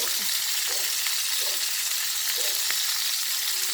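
Meat going into a frying pan for Tagalog-style pakbet gives a steady, loud broadband sizzle throughout, with faint clinks of stirring and no talk.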